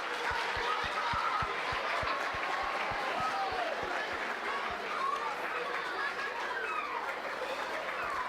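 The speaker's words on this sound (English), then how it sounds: "Give me a round of applause for Becky." A crowd at a university chemistry demo night applauds for a volunteer, a broad wash of clapping and chatter with some laughter, and a few louder, distinct claps near the front.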